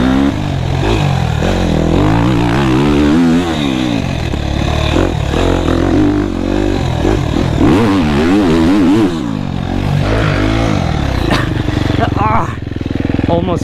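A motocross bike rides tight turns and ruts on a field track, its engine revving loudly and continuously, rising and falling with throttle changes for the whole stretch.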